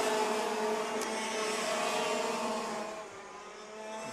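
A pack of KA2 Junior karts with Vortex 125 water-cooled engines races past at a kart club meeting, a loud, high, buzzing whine of several engines held steady, then easing slightly as they move away.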